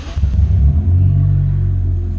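Honda Civic G7 with a 4-inch straight-pipe RR Performance exhaust, heard as a deep, steady engine rumble close by, with a brief swell at the start before it settles into a smooth, even idle.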